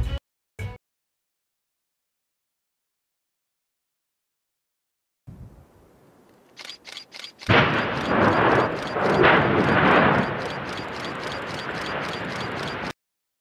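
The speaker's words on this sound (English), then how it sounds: "Lava lights up night as Mount Etna erupts with raging flames." Mount Etna erupting at night in Sicily: after a few seconds of silence, a low rumble gives way to a string of sharp blasts, then a sustained loud roaring, crackling burst of volcanic activity lasting several seconds.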